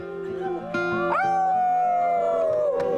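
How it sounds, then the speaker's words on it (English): A mascot dog at an ultimate frisbee game in Lexington, Kentucky lets out a long, loud, wavering howl that slowly slides downward in pitch, close by, with people's voices faint behind it. "And lest we forget, Goldie, the howling mascot."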